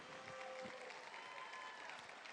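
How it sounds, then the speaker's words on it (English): Audience at a high school football championship reception applauding the players' parents, dense steady clapping filling the room with faint crowd murmur and tonal hums running underneath. "give your parents a round of applause"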